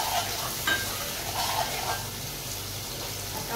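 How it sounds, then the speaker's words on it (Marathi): Half a spoon of turmeric sizzles in hot oil over a low flame while being stirred for Agri-style misal. A steady close frying hiss is broken by a few scraping stirs, with no talking. "आता सर्वप्रथम आपण हळद टाकूया. हे बघा हळद टाकली मी अर्धा चम्मच."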